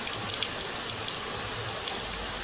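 Heavy rain falls in a steady, dense hiss with faint scattered patters of drops, continuous throughout and with no voices.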